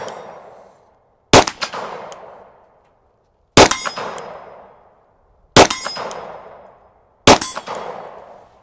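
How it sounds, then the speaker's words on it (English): Four SIG P365 FUSE pistol shots at an outdoor range, each a sharp crack followed by a long ringing clang from a large steel gong 25 yards away, spaced about two seconds apart with the metallic ring decaying between them. "Let's try the gongs at 25 yards. We'll try the big one on the right."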